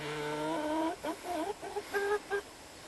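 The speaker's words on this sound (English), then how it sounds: "I think you're two very selfish hens." Hens clucking close by in a backyard chicken coop, a short run of tonal, rising clucks and squawks, fairly quiet with no talking.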